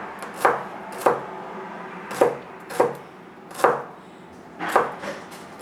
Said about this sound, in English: So I'm chopping these up.